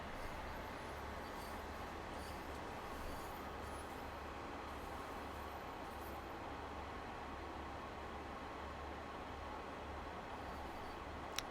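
A train in Train Sim World 3 on the West Cornwall Local line slows under braking, its steady low rumble of wheels and rail noise continuing evenly throughout at moderate, constant loudness.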